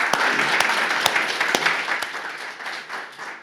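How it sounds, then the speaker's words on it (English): A panel audience applauds after a discussion on combatting racism and hate speech, dense clapping with a few sharp nearby claps standing out, gradually thinning and fading toward the end. "I would like to thank our panelists with a round of applause"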